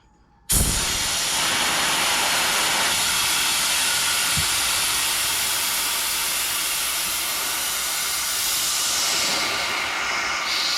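A VEVOR air jack fills with a sudden loud rush of compressed air, a steady close hiss that holds unbroken for about ten seconds as it raises a car by the tire.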